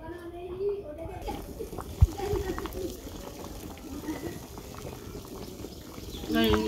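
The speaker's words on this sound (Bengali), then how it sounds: "ডিম সিদ্ধ বসাই দিছি, ডিমটা সিদ্ধ দিয়ে বেনছি আর কি" Eggs boiling in a pot of water over a village cooking fire, making a continuous low bubbling with one sharp knock, while voices murmur in the background.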